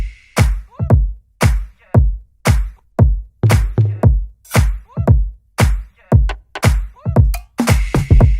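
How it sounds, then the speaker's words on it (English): Drum groove from a track, with a punchy kick, claps and bright hi-hats in a steady, busy loop of about sixteen hits, played loud and alone with no talk. "We're going to start off with the drums"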